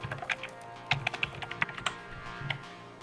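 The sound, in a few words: typing on a computer keyboard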